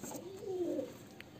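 A male Muska pigeon gives a single soft, low coo lasting under a second, close by and fairly quiet, with no voices over it.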